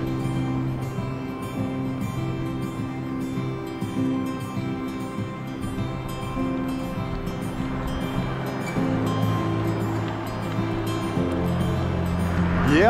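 Steady wind rushes past the microphone while riding a mountain bike along the Great Divide route, with a constant low roar of air and rolling tyre noise building slightly louder toward the end.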